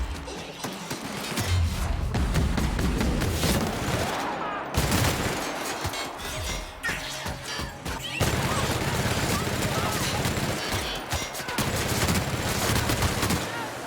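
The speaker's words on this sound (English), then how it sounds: "That guy just exploded." A loud, sustained barrage of blasts, crashes and gunfire-like bangs in the sci-fi video game The Outer Worlds, dense and continuous with brief breaks, close and harsh, partly mixed with game voices.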